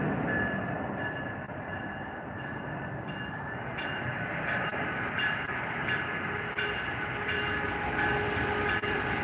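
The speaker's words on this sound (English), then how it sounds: "The old train." An old train rolls past at Old Town San Diego with a continuous loud rumble of wagons and wheels, high metallic tones rising midway as it goes by, with no talk.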